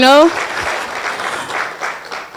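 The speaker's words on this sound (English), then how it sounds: "A stronger round of applause." Audience applause at a 60th birthday symposium, a broad steady wash of many hands clapping that follows a brief voice at the start and holds at a fairly even, moderately loud level.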